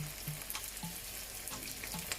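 Oil frying in a pan on the stove, a fine steady crackle and sizzle with a few soft clinks and stirring touches.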